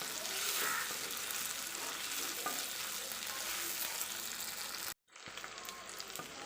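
Chopped onions sauté in a pan for brinjal and tomato kadayal, giving a steady, close, loud frying sizzle that cuts out for a moment near the end and then resumes. No one speaks.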